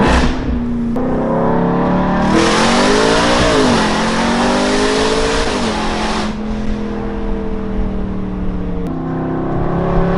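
Loud, close Audi B8.5 RS5 engine revving with a raspy Eventuri aftermarket intake growl, climbing and dropping in pitch through several pulls before settling back.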